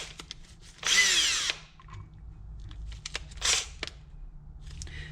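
Power drill tightening down a part on an Arctic Cat 650 H1 cylinder head during a rebuild: a loud whirring burst near the start, then several short shorter bursts and a second run, close up with little else around.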